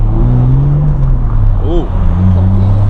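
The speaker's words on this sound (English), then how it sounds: "someone's fucking doing a burnout or something" A car doing a burnout nearby: a loud, steady engine drone with rising and falling revs and a brief whine partway through, heard close and continuous.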